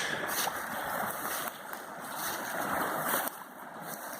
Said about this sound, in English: Here's the creek.